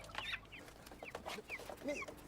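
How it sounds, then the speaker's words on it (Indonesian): A domestic chicken that has wandered from its coop clucks in a series of short, quiet calls at a modest distance, heard alone without speech. "Ayam siapa sih ini? Balik ke kandang."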